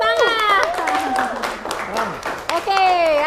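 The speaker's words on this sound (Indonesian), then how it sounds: "Tepuk tangan." Students in an Indonesian classroom clap in short bursts while children's voices chant and call out loudly over the applause.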